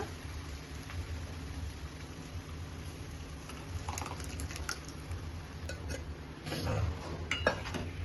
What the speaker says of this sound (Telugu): పప్పు పోసి బాగా కలిపేసి కొంతసేపు మూత పెట్టుకున్నా.